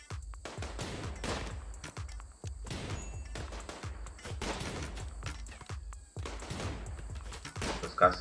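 Bursts of gunfire in a Rimworld raid, repeated sharp volleys in irregular clusters at moderate distance, separated by short gaps of quiet throughout.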